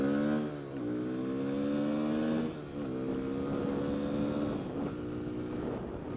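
A Kawasaki KLX140L dirt bike engine revs up through rising pitches in several pulls, easing off between each, heard close and loud on pavement riding.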